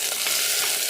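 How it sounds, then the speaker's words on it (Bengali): Onion, ginger and garlic sizzling in a hot pan, a brief, steady crackling hiss close up with a soft stir, and no voices. "পেঁয়াজটা লাল করে নিই।"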